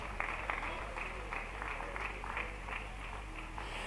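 Church congregation clapping during a service, a rhythmic group applause with regular beats in unison, moderately loud and steady for a few seconds.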